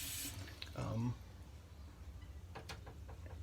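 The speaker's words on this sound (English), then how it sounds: "we're going to use the brush to get some water into this" Water running from a tap into a sink as a shaving brush is wetted to work into a pre-shave product, a brief splashing rush followed by softer trickling and faint drips.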